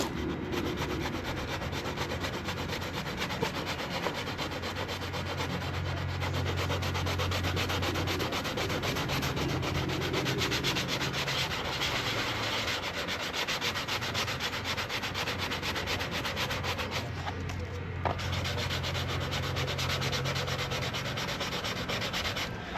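Steady, close scraping of 180 grit sandpaper worked by hand over car paint around a split in a panel, a continuous rhythmic rubbing with brief pauses and no talk.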